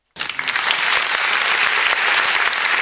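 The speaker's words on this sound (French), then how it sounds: "Est-ce qu'on peut applaudir très fort pour l'abbé Jean-Claude?" Loud, sustained applause from a church congregation at a diocesan Christmas tree celebration in Koumassi, honoring the priest; dense clapping starts abruptly and holds steady throughout with no talk over it.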